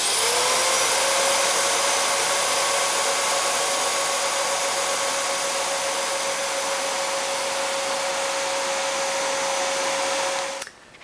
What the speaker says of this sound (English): I'm going to start with just a regular vacuum cleaner